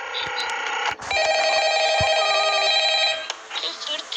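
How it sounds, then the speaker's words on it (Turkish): A telephone rings in the video game Ultimate Custom Night, a loud, bright electronic trill that holds steadily for about two seconds, with clicks and game sounds before and after. "Telefon."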